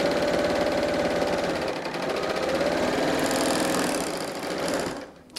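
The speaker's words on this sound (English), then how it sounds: "I am not serging off any seam allowance. Just putting it next to the knife and sewing." A serger sews a quarter-inch seam on a vintage-style top with the edge guided along the knife, giving a loud, continuous, close mechanical whir that stops abruptly at the end.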